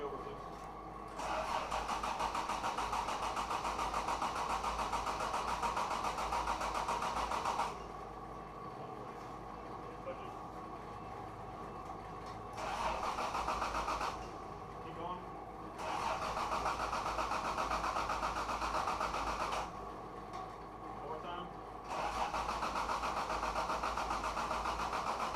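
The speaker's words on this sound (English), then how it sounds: "then we'll be good to turn her over and see how she does" A Toyota Supra MKII engine cranks on its starter with the fuel pump relay fuse pulled, so it never fires. It comes as several long, even whirring bursts separated by short pauses, close and steady throughout.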